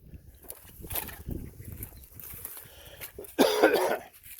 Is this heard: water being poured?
no